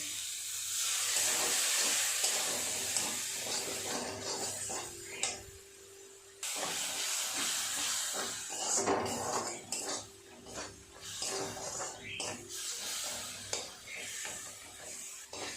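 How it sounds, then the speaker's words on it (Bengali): Cumin and coriander powder masala is stirred and sautéed with a little water in a pan for a potato curry, giving soft hissing sizzle with repeated scraping and clinking of a spoon against the pot, no voices. "অল্প জল দিয়ে মশলাটা খুব ভালো করে কষিয়ে নেব"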